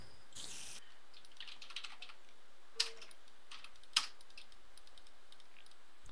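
Sporadic keyboard typing from a Minecraft gaming session, faint and sparse clicks with two sharper taps standing out against a quiet background hum.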